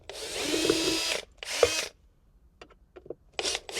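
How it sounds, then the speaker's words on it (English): Cordless power driver backing out armrest screws on an Infiniti Q50 interior, two short whirring bursts close by, followed by faint clicks and a further brief buzz. "we're just going to unscrew all these"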